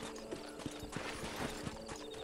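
Horse hooves in the Red Dead Redemption video game clop in a steady, evenly spaced trot, about ten distinct hoofbeats at moderate loudness over a faint ambient background, with no talking.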